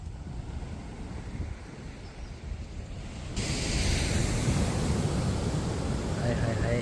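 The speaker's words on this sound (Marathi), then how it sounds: "हाय हाय हाय त्या लाटा." Sea waves wash onto Velneshwar beach as a steady broadband roar that grows louder and fuller partway through, with a voice talking faintly beneath the surf.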